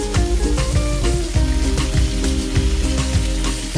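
Skin-on fish fillet frying skin side down in a pan, a steady loud sizzle with crackling oil pops throughout, no talking.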